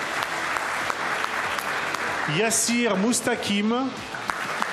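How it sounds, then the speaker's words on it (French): An audience at a graduation ceremony applauds graduates receiving their degrees, a steady wash of clapping while an announcer reads a name over it. "Vous pouvez les applaudir"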